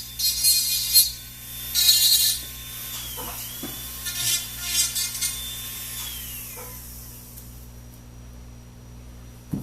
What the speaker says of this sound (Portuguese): Cuidando ao máximo para essa broca não afetar o fio,